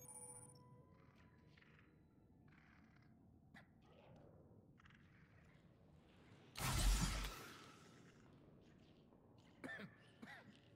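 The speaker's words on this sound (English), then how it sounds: "I hear someone coughing." Someone coughs in the video game The Outer Worlds: one short, fairly loud burst near the middle over a quiet background. Faint game sounds and a brief later noise come before and after it.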